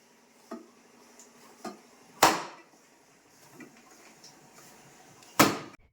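Two loud, sharp slaps of paratha dough thrown down on a surface, separated by a few seconds, with softer pats and kitchen knocks in between.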